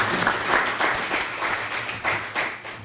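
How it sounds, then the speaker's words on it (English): An audience at a borough council meeting bursts into steady applause, a dense wash of many hands clapping at close range that fluctuates in intensity over a few seconds, with no speech. "I'd like to applaud all of them"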